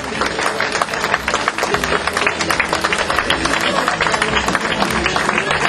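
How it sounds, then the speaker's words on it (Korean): Applause and cheering from a party caucus assembly welcoming the newly elected floor leader, Park Jie-won, a dense, steady wash of clapping hands filling the hall throughout. "뜨거운 박수로 환영해 주시기 바랍니다"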